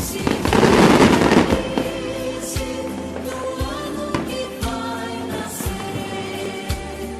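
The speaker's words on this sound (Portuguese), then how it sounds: "colocar aqueles fogos, né? Por conta do ano novo no nosso efeito de vídeo e de som." Festive New Year fireworks burst and crackle, loud and dense at first, then settle into scattered pops and booms at intervals, with no one speaking.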